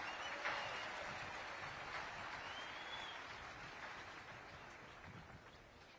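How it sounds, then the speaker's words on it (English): Steady, dense applause from a large audience at a West Point military academy graduation ceremony, sustained and even throughout with no talk on top. "how about a round of applause for the class of 1975"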